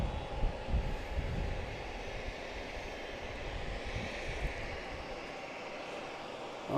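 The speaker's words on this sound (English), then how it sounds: "Boutique Air, the loud plane that was in front of us the entire time, finally taking off" A loud Boutique Air propeller plane taking off at Logan Airport, a steady broad engine roar heard from some distance, sustained without speech.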